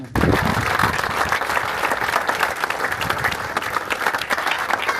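Audience applause at a foundation-stone ceremony for the Espace Ricard, a dense, steady clapping from a crowd sustained throughout at full, even loudness.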